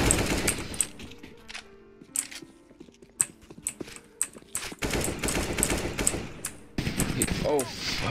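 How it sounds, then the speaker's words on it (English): Rapid bursts of gunfire and individual shots in a multiplayer video game, crisp sharp cracks scattered throughout, interleaved with players talking over voice chat. "Yeah, they're shooting."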